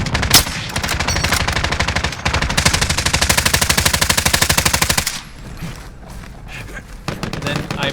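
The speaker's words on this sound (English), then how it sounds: "The guy just starts shooting people down." Rapid automatic gunfire in a video game, with long bursts of machine-gun-like shots in steady rhythm, loud and close, then quieter scattered shots and game sounds toward the end.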